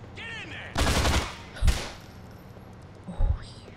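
Short bursts of machine gun fire in the game GTA IV: The Ballad of Gay Tony, three loud, rapid volleys close by with brief pauses between them, mixed with game voices.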